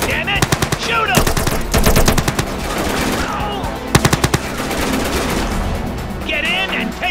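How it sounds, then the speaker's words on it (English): Rapid machine-gun bursts and single shots ring out in GTA San Andreas, loud and close in staccato clusters, with shouted voices between the volleys. "Shoot him, damn it! Shoot him!"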